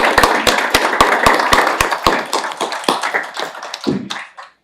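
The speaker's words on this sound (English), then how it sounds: "a big round of applause for" A room full of people applauds at an evening committee meeting, dense clapping with a few sharp louder claps up front, fading out over about four seconds.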